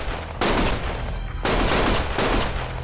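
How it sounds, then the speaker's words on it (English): Gunfire in the video game Lost Judgment: three dense bursts of rapid shots, loud and close, separated by short gaps of lower background noise. "Stop shooting!"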